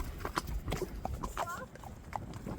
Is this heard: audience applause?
no